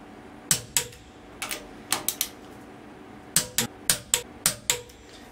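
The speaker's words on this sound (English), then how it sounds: "come in with the torque wrench and torque this to 20 newton meters" Torque wrench clicking sharply as a fastener is tightened to 20 newton meters on a Haas Mini Mill setup, about a dozen crisp close clicks in irregular clusters, with no talking.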